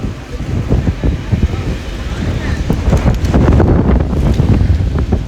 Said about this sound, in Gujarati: બરાબર પવન ચાલુ થઈ ગયો છે ગાઈસ ફૂલ પવન એકદમ વાવાઝોડું વાળું જેવો પવન ચાલુ થઈ ગયો છે